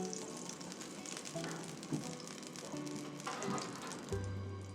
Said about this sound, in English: I've never tried Bannock cooked in seal oil before